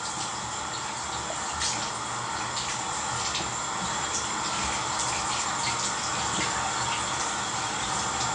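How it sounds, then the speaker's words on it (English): Tap water runs steadily into a sink during a morning face-washing routine, a continuous close hiss and splash with small shifts as hands move through the stream and no talking. "now, with not cold, but also not hot water"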